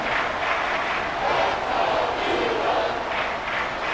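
A stadium crowd in the Madden NFL 24 football video game roars steadily as a big third down approaches, a dense, continuous wash of cheering that swells slightly at times without letting up.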